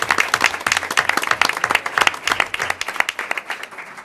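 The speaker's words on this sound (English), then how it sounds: "So if we could give them a round of applause." An audience applauds students at an awards ceremony with dense, steady clapping, loud and sustained for several seconds and then tapering slightly at the end.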